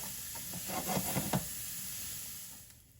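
Vegetables brown in a hot pan for a quinoa bowl, giving a steady close sizzle with a few soft scraping stirs near the start that fade toward the end.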